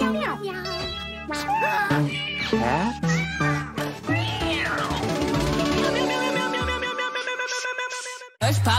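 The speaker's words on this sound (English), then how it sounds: "Cats go meow." A cat meows several times in a TV commercial, cut in among jingle-like music and bright chimes, with a voice speaking over parts of it and a brief silence near the end.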